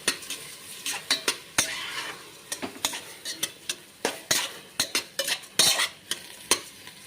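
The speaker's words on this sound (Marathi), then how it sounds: "आता तेलात छानपैकी परतून घेऊ हे सर्व" Rice and spices sautéed in hot oil for khichdi: a rapid series of sharp spoon scrapes and clinks against the pan over a light, steady sizzle, close and rhythmic with no talking.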